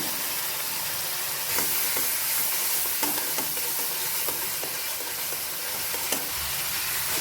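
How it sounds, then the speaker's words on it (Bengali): Spices sizzle steadily in a hot pan while a spoon scrapes and stirs, with a few sharper clicks against the metal, while cooking young jackfruit. "দিয়ে কিছুক্ষণ মশলাটাকে ভাজা ভাজা করবো"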